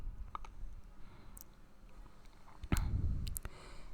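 Scattered clicks of keys being typed on a computer keyboard, sparse and close, a few sharp taps with brief pauses between them and no voices.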